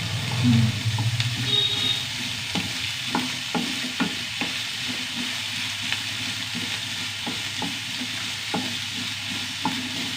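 Onions and green chili sauté in a pan with a steady sizzle, while a spoon taps and scrapes the pan in a loose rhythm of sharp clicks.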